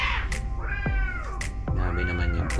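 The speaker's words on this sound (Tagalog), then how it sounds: "Grabe naman yung pusa na yan. Tumaiming talaga yung pusa." A cat meows loudly and clearly close by, giving three drawn-out, wavering calls in a row over steady background noise.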